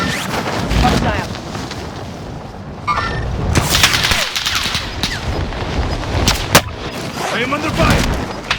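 Gunfire and heavy booms from a Call of Duty Warzone match on Rebirth Island, with loud bursts and impacts in a chaotic battle mix, and a voice calling out over the shooting.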